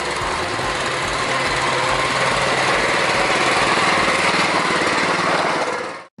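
A motorcycle built to handle a range of unusual terrains runs its engine in a loud, steady, high-pitched buzz that holds close and constant before cutting off abruptly at the end.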